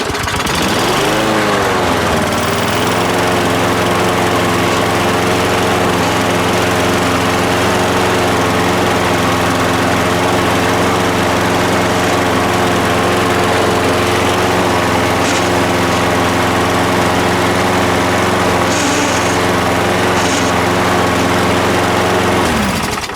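A curb-picked Toro Recycler lawn mower, which has a drive transmission fault, runs close by. Its engine drones loud and steady throughout, with no talk over it.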